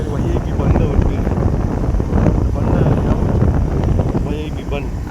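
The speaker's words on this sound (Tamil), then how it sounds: "ஏன்னா காற்று எதிர்காற்று அவ்வளோ அடிக்குது." Strong headwind buffeting a microphone on a motorbike ride toward Tada waterfall, a loud, gusty rumbling roar that persists throughout while someone talks over it.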